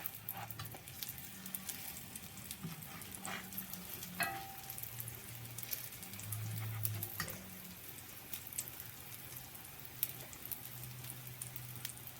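Apple pancakes made with kefir batter sizzle and fry in a pan, a steady crackling hiss with occasional soft pops and clicks, no talking.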